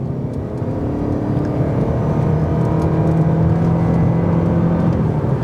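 A 2020 Lexus UX Hybrid with a CVT accelerates at full throttle, a steady, droning engine whir rising slightly in pitch without gear shifts, loud and continuous from inside the cabin.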